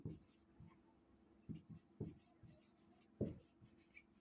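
A pen scratches out a word on paper while an HSC ICT exam question is being worked through, producing faint, irregular short strokes and taps, quiet and close.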